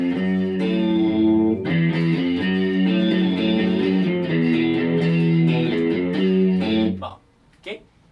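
An electric guitar played through a rotary spin modulation effect rings out in sustained, swirling chords with a wavering, warbling tone, then cuts off near the end, leaving a brief quieter noise.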